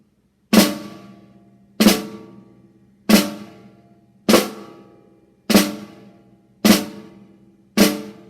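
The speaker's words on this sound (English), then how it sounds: "what a flam is when you drop the sticks at the same time" Seven evenly spaced drum flams struck with drumsticks, each a sharp, close double hit on a drum that decays quickly, played alone at a slow, steady pace.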